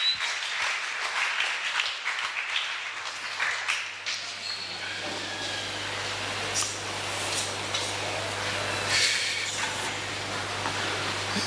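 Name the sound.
church congregation applauding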